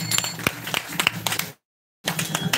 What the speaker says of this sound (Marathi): वा वा वा, टाळ्या टाळ्या.